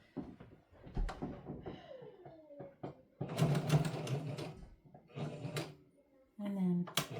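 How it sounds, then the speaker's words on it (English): A domestic sewing machine runs a zigzag stitch on fabric for a toddler dress, giving a few short whirring bursts that start and stop between stretches of close-up talk. "do a zigzag stitch on this"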